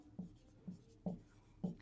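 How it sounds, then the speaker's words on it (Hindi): A pen or marker writing out sets in a math lesson, giving four short, soft scratching strokes spaced about half a second apart, close and quiet. "अब हम इन सेट्स को लिखेंगे"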